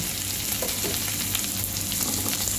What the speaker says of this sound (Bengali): এখন আমি আদা রসুন পেস্ট একটু তেলের সাথে ভেজে দিব